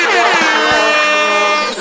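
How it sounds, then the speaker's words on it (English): A loud, blaring air horn sound effect blasts continuously for nearly two seconds, harsh and brassy, up close, dropped in during a podcast. "Yo, we need air horns for that."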